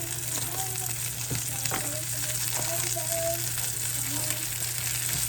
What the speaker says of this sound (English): go ahead and add a little bit more butter to my pan